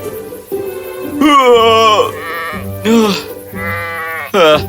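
A flock of sheep in an animated Hindi fairy tale about a greedy shepherd bleats in several loud, wavering calls, one after another, close by and dominating the scene.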